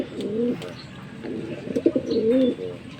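Racing pigeons in a loft coo in low, rolling phrases, two or three close bouts overlapping with soft wing flutters and a brief chirp nearby.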